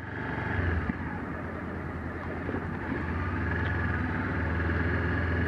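Honda CB500X, an A2-licence adventure motorcycle, rumbles steadily throughout a test ride, its engine drone close and continuous, blended with wind buffeting on the microphone.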